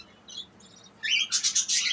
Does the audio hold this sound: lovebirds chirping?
yes